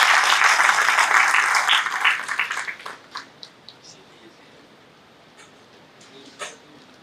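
An audience claps for a speaker at a talk, with loud, dense applause for about two seconds that quickly thins into scattered single claps and then dies away into quiet room noise.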